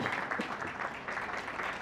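At a Sindhi community panchayat gathering, an audience claps in a brief, fairly faint burst of scattered applause.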